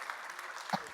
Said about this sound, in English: Please, a round of applause for this great panel.